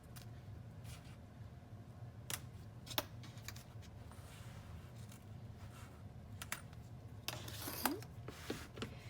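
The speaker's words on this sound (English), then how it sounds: "we're going to trim our excess zipper tape." Quiet, sparse snips of scissors trimming excess zipper tape on a sewn binder pouch, a few sharp clicks spaced irregularly over a soft background hum.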